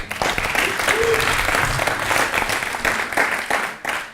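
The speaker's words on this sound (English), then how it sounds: "So please give them a round of applause." Audience applause at an E4IMPACT business event, a dense, steady wash of many hands clapping close by for about four seconds, with a few voices faintly mixed in.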